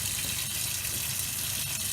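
An RV's fresh water pump sends water gushing steadily from a tap in a continuous, even rush, with no voices over it.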